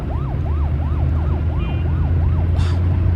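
Police car siren wailing in a fast repeating yelp cycle, loud and close over steady low engine rumble, with a brief faint horn-like burst near the end.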